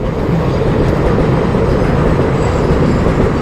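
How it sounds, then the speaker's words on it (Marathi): A heavy, continuous rumble of a fast train rushing by nearby, heard from a bridge, deep and steady for the whole stretch, with no voices. "ही बघ पॉम पॉम करत आले ट्रेनचे फास्ट गाडी"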